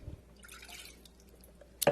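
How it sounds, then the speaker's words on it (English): Half a cup of water and four cut-up apples are tipped into a saucepan, making a soft brief splash and trickle that ends in a small clunk. "I'm going to take half a cup of water and my 4 cut up apples, and I'm going to put them in this saucepan"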